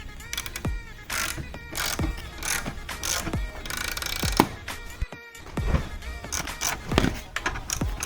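A ratchet working the lift on a transmission jack used for an Audi A4 / Passat B5 clutch job, heard as a series of regular, fairly loud metallic clicks close by, roughly one stroke every half second.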